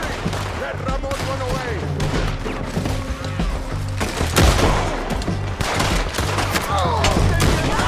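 Gunfire in Red Dead Redemption 2 during a bounty mission, a loud dense burst of repeated shots and impacts over a game soundtrack, with a voice talking at times.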